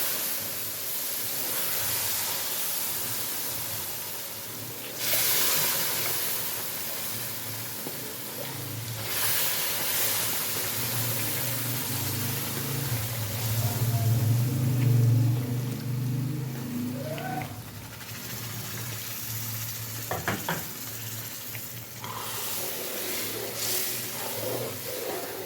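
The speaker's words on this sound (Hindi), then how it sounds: "चाशनी पहले मैंने थोड़ी सी शामिल करूँगी, जिससे हाथ पे छींटे पड़ेंगे" Sugar syrup poured into a hot pan gives off a steady, fairly loud hissing sizzle with spattering bursts, lasting the whole stretch with no one speaking.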